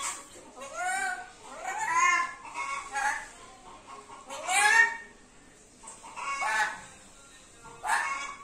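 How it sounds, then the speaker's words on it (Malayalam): A chick clucks inside a parrot's cage, sounding a series of short, bright calls about once a second, close and clear against a quiet room. "നിന്റെ കൂട്ടിനുള്ളിൽ കോഴിക്കുട്ടി കയറിയിരിക്കണം."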